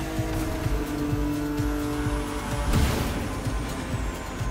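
A souped up Japanese car drives in The Crew Motorfest, its engine droning steadily with a short tire squeal and whoosh near the middle, heard alone and fairly loud.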